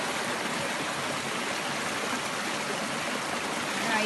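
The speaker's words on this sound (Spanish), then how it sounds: "Oigan, qué rico suena. Es agua clarita y bien fresquita." Clear, fresh water flows in a steady, close rushing stream outdoors, an even unbroken wash of sound with no pauses.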